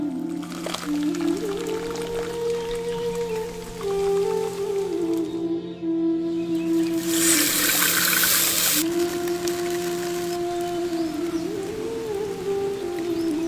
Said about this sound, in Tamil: கஞ்சி இப்ப வடிச்சு எடுத்துடலாம்.